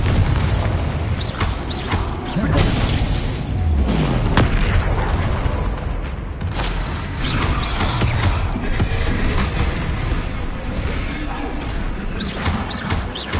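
Spell casting and explosions from Hogwarts Legacy fill a dense, loud, continuous battle mix with repeated booms and crashes during a troll fight, music-like layers underneath.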